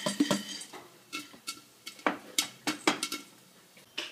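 Scattered sharp pops and light taps from popcorn kernels bursting in a pot, irregular and close, with no talking.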